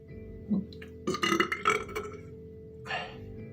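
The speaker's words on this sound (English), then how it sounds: "I'm starting to get hiccups." Someone hiccups several times after gulping water from a wide-lidded bottle: short, close, abrupt throaty bursts with pauses between them.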